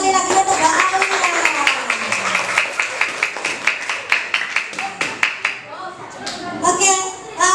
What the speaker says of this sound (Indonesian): Tepuk tangan sekali lagi untuk Mbak Aulia.